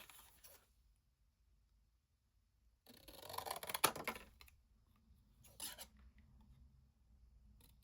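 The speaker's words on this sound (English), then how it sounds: "Let's bring in our scissors just so that we can cut that." Scissors cut through card, producing faint, brief rasping snips in two or three short bursts separated by quiet gaps.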